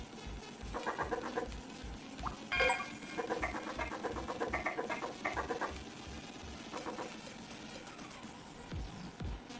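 A chicken clucks in a video game, its cackling bursts rising and falling over a steady thumping beat of game music, moderately loud, with no talk.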